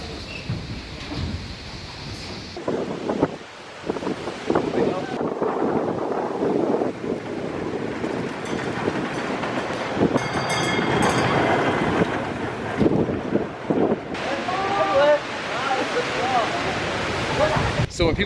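Strong gale-force wind buffeting the microphone at Farup Sommerland amusement park, roaring and gusting continuously as people talk underneath.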